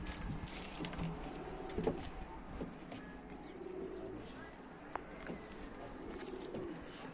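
Pigeons cooing at a live pigeon auction for Turkish flying tumbler birds, low repeated coos and faint chirps over a continuous room hum with scattered background noise.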